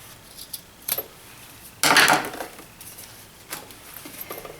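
Scissors snipping off the excess zipper from a blue jeans purse: a few faint clicks and a louder short burst of cutting, close and quiet, with no talk.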